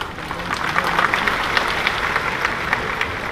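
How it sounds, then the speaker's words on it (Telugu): Audience clapping in a large indoor gathering, a dense steady patter of many hands sustained throughout at moderate loudness, with no speech over it. "మీరు చప్పట్లు కొడుతున్నారు"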